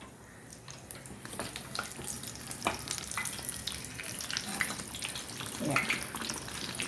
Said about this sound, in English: Now you can put some hot oil on top as it is frying.